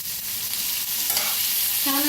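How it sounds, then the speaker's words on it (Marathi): Ginger and chopped tomato pieces roast in a pan with a continuous hiss, while a spoon scrapes and stirs and the crackle stays close. No one speaks. "आता ह्याच्यातच अद्रकचं तुकडं बी भाजून घेऊया टमाटो बी कापून घेतलेलं भाजून घेऊया"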